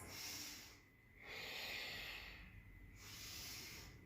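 Slow, deep breaths during a yoga pose: long hissing exhales and inhales through the nose alternate in a steady rhythm, close and soft, with no talking.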